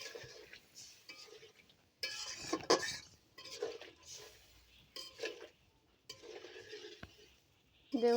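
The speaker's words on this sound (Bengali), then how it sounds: "জল দিচ্ছি। দিয়ে নেড়ে চেড়ে দেব।" A spoon stirs Bengali boal fish curry with potato and eggplant in a pan just after water goes in, giving repeated scraping and clinking strokes with a faint simmer between them, close and fairly clear.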